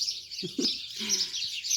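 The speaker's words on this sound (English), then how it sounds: "thought I'd share some of my bird singing" Birds sing outdoors in a bright, high chirping chorus that runs continuously, moderately close and clear, with a few lower, brief sounds underneath and no voices.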